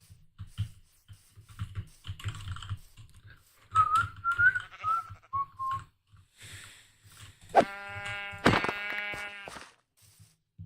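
In the Minecraft video game, quiet clicks and whistly tones lead into a short run of loud, close sheep bleats near the end, with no speech.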